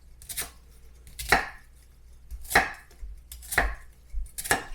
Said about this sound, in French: quand on veut venir couper des oignons en très petits morceaux, on va couper dans ce sens-là, ensuite dans ce sens-là